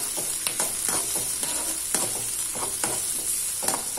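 Onions sautéing and being stirred in a pan for a Tamil-style banana flower stir-fry, with a steady sizzle broken by repeated spatula scrapes at a close, moderate level and no talking.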